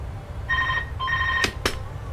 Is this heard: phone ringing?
yes